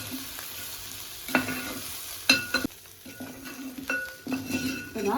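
A traditional Kerala chicken roast with fried ginger, curry leaves and onion being stirred in a pan, with scraping spoon strokes and metallic clinks over a steady low sizzle, close and moderately loud.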